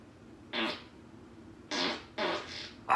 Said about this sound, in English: I got a fart.